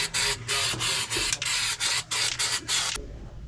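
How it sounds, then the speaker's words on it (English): A can of Flex Seal rubber sealant sprays onto a damaged boat in a series of loud hissing bursts, about ten in quick succession, close up, then stops. "I'm actually just gonna spray everything over here with Flex Seal."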